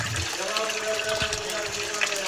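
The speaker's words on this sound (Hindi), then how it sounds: "ये तो पानी आ रहा है इसका" Water pours steadily from a cow-mouth spring spout at a jungle temple, a continuous, even rush of flowing water heard up close throughout.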